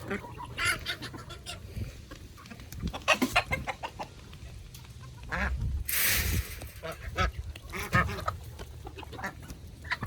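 Chickens clucking and squawking close by, with scattered calls from other fowl and occasional voices in the background.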